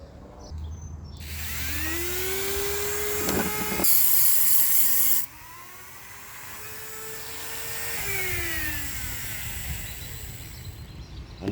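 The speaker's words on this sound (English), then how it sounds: "I'm going to go ahead and attempt to cut a slot in it" A power tool whines loudly and steadily while cutting a slot into a stuck screw head on the trim of a 1992 Born Free RV, its pitch rising and falling as the cut loads.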